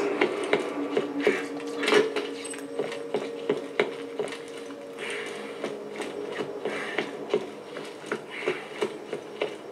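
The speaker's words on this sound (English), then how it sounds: "Would have been nice to know that this thing's actually an elevator." An elevator moves in the video game Borderlands with steady rhythmic mechanical clatter and ratcheting clicks over a low hum, continuous throughout.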